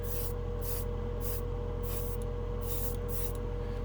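An airbrush sprays Pro Acryl acrylic hobby paint from a little distance in a continuous hiss, broken by several short bursts of louder spray as the trigger is pulled again and again, close by, with no voices.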